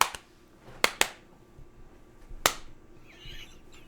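A few sharp, isolated hand claps, loud and crisp, spaced unevenly across a quiet room with soft background noise between them.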